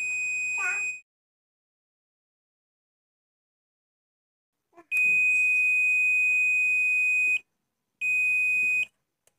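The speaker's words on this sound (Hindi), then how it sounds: "अगर बीप की आवाज़ आती है और मल्टीमीटर में शून्य दिखाता है तो यह ट्रांजिस्टर 60 है।" A multimeter on continuity mode gives steady electronic beeps while transistors in a 1200 watt booster amplifier are tested: a short chirp, then a long sustained tone and a shorter one, close and clear with silence between.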